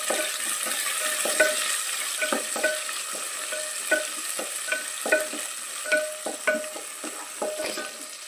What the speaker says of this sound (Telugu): ఎర్రగడ్డలు బ్రౌన్ కలర్ వచ్చేంత వరకు బాగా వేసుకునేది